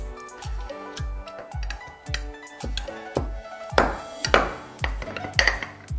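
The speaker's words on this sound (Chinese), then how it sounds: "用擀面棍轻轻给它压一压。" A rolling pin presses green grapes and lime slices in a bottle, making a steady run of dull thumps about twice a second, set against background music.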